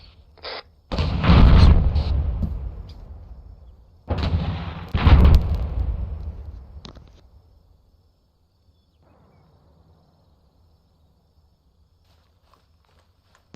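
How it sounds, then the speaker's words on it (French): Two heavy artillery shots in the Arma 3 military video game, each a loud, deep boom with a long rumbling tail that fades over several seconds, the pair about three seconds apart, then near silence. "Affirmatif, ce sont les 5 derniers obus."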